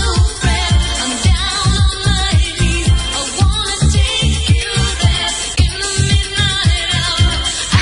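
A pop song plays forwards at full volume, a dense mix of vocals and instruments over a steady pulsing beat, with nothing else heard.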